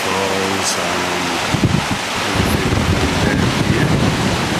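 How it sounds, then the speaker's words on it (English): A storm-swollen river in Portugal rushes over waterfalls into a pool between large rocks, making a loud, continuous roar of churning water buffeted by heavy wind noise. "So this is our bit of the river. You can see all the waterfalls and"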